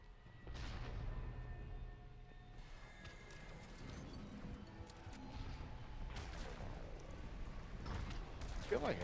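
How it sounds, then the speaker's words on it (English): Rumbling explosions and booming blasts from the video game Mass Effect 3 roll on continuously, with several sharper bangs near the end over a dense low-frequency background. "Just explosions."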